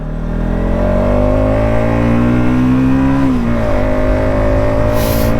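Loud, close motorcycle engine on a ride toward Kodaikanal, a steady throaty drone whose pitch climbs gradually as the throttle opens, dips briefly, then holds high again.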